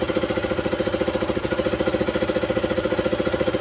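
A KTM Duke 200 motorcycle engine idles after a fuel pump fix, putting out a close, steady, rapid thumping pulse at an even rhythm.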